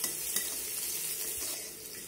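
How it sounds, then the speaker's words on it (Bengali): Chopped onion and garlic are stir-fried in a pan, a dense continuous sizzle with faint, soft stirring scrapes, close and steady. "পেঁয়াজটাকেও নেড়ে চেড়ে ভেজে নেব।"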